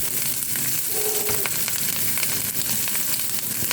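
Urad dal and finely chopped onion sizzle steadily in hot oil in a pan, a dense, continuous frying crackle close up with occasional stirring and no talk.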